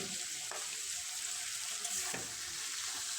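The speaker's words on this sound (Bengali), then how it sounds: "আলুটা আমি কিছুক্ষণ ভেজে নেব" Potato pieces fry in oil in a pan for a puti fish and vegetable curry, with a steady close sizzle and hiss throughout and a couple of faint utensil clicks.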